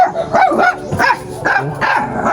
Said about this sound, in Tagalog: Galit sa atin yung aso.